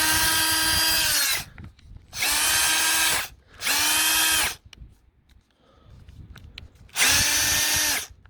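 A Milwaukee M-series 2606-20 combi drill, freshly repaired brushes, runs in four loud bursts of about a second each, whining up to a steady pitch and stopping abruptly, with brief quiet gaps between.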